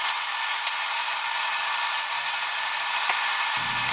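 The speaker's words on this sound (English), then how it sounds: "I'm not the most efficient as possible setting my drill down each hole" A high-pitched power drill drilling pocket holes with a Kreg jig whines continuously at close range, steady in pitch, with a brief thump near the end.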